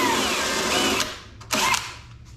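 Power drill driving a screw into a wooden board for a wall-mounted tool holder shelf, a loud close whine for about a second, then a short second burst.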